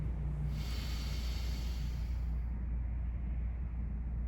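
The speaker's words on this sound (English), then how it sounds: "Inhale left nostril, exhale right nostril, inhale right nostril, Exhale, left nostril." Alternate nostril breathing, slow steady air drawn in and pushed out through one nostril at a time, soft and close, a single airy breath with no talking.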